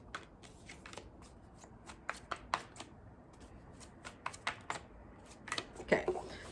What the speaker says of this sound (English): let's go ahead and throw down some cards for Sagittarius